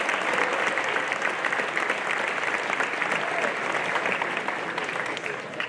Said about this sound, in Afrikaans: Kom ons gee lekker applous daar, dit sê baie geluk.